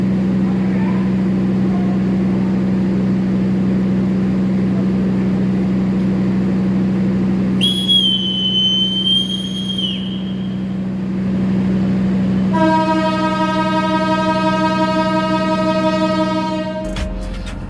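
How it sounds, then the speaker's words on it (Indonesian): The Dharmawangsa train pulls out of Surabaya Pasar Turi station at night over a steady low engine hum, with a high whistle blast in the middle and a long, loud horn toward the end. "kereta api Dharma Wangsa meninggalkan stasiun Surabaya Pasar Turi"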